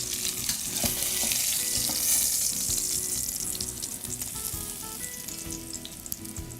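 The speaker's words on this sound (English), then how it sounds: "Just hearing that sizzle is" Salmon fillet sizzles loudly and steadily in a hot pan in a Legal Sea Foods kitchen, a dense crackling fry with small pops and scrapes running throughout, close and without talk.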